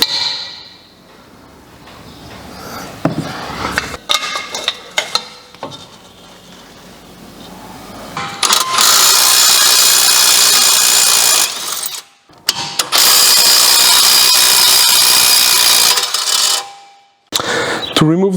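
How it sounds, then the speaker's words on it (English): An impact gun works the brake caliper bolts loose on a Mercedes CLS Shooting Brake: scattered metallic clicks and handling noises first, then two long, loud rattling bursts of hammering, separated by a brief pause. "then I will use the impact gun to remove them"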